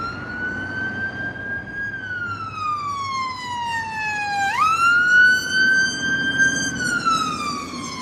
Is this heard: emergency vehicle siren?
yes